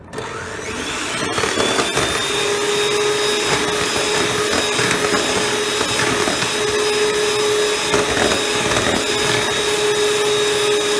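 An electric mixer beats chocolate tart batter in a bowl, a loud, steady whirring drone with a high motor whine that starts abruptly and holds constant throughout, with no voices.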